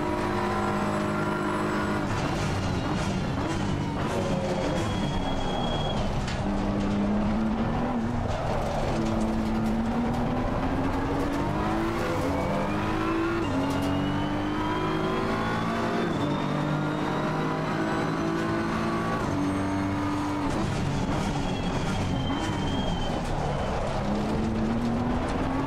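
A BMW M4 GT3 race car laps Spa on its final lap, its engine screaming loud and close through rising and falling gear changes with steady revving and brief tire noise throughout.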